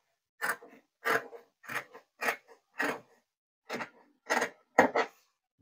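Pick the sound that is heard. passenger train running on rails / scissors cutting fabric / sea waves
scissors cutting fabric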